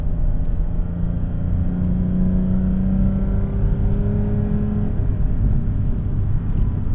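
A 2006 Lexus IS350 accelerates hard from inside the cabin, its engine note rising in steady pitch through the gear as a loud, continuous drone with road rumble, no talking.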